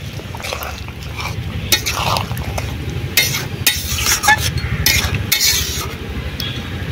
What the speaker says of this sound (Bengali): ভিজে রাখা ইলিশ মাছগুলো দিয়ে দেবো, চেরা কাঁচা লঙ্কা,